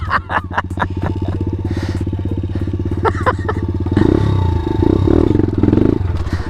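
Pit bike engine revving hard during a wheelie attempt, a loud steady buzzing drone with sharp clattering blips early on, then surging louder throttle pulses toward the end.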